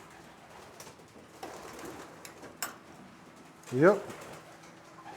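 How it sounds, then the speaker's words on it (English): A grizzle racing pigeon, first bird home from a 100-mile race, gives a single soft low coo near the microphone toward the end, amid quiet background noise and a brief spoken word. "The grizzle bird is the first bird back."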